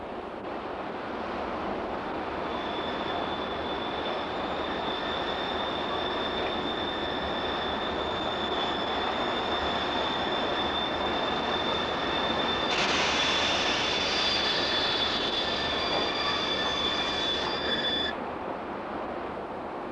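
Steam locomotive 52 8123 pulling a train into Königsbrück station in 1970s Saxony: steady rolling rumble with a long, thin wheel squeal sustained throughout, rising briefly near the end.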